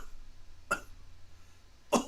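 Two short, sharp coughs, the first soft and the second louder and harsher, break a quiet room tone more than a second apart.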